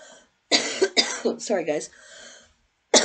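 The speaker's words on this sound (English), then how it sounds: "I'd just be coughing all day" A woman coughs, with short bursts coming between bits of her own talk in a cluttered room while she sorts secondhand clothing, and one more cough comes at the end.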